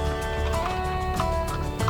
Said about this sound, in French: je suis à 1000 tours moteur.